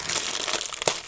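A plastic bag crinkles and rustles close up in a brief, quiet burst of crisp crackles with one sharper crunch near the end.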